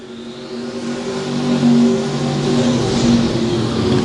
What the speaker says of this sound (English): He hits the gas, and we are back underway.